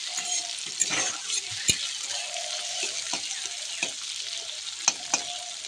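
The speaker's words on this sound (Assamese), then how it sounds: "বিলাহী দি পেলাই অলপ ভাজি ল'ম।" Tomato pieces fry in a pan for a chicken curry: a soft, steady sizzle runs throughout, broken by a few sharp clicks and light utensil taps, with no talking.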